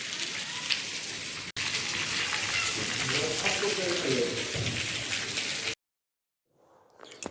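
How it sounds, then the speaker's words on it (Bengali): Dense, steady heavy rain in Chhattisgarh pattering hard on a surface, with a brief break, then silence before faint noise returns at the end. "তো দেখলেন বাইরে বৃষ্টি হচ্ছে খুব জোর"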